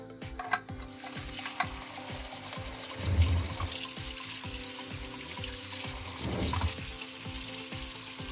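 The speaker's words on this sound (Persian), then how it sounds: "آب سرد میریزیم روش" Cold water runs from a tap over drained macaroni in a strainer, a close, steady splashing rush that swells twice as the pasta is stirred and shaken, with no talking.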